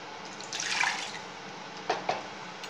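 Water splashes as it is poured into buttermilk curry paste and stirred, a soft liquid pour followed by two light drips or taps, quiet and close.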